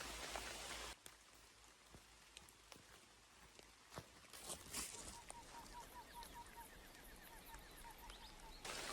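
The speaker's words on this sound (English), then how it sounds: "And it continues to rain." Rain falls steadily in an Indonesian forest, a faint continuous patter with scattered louder drops tapping nearby surfaces and distant bird calls in the background.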